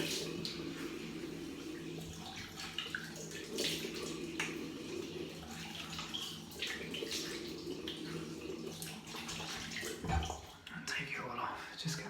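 Water splashes while the face is rinsed after a wet shave with a Gillette King C double-edge razor. A tap runs steadily under close splashing, and a voice is faintly present in the background.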